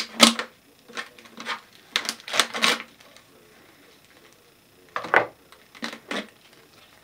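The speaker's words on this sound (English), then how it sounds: "scissors, cut this label off." Scissors snip and scrape while cutting a label off a bottle, a string of short crisp clicks and rustles in uneven bursts, close up with quiet pauses between.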